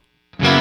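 A loud distorted strum on the Enya Inspire carbon fiber smart guitar with reverb engaged bursts in after near silence and rings on, dirty amp tone, no talking.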